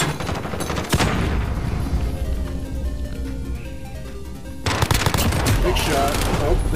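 Rapid bursts of automatic gunfire ring out in a Call of Duty Modern Warfare match, dense and loud in the opening second, easing through a quieter stretch, then resuming as heavy firing near the end while a player talks over it.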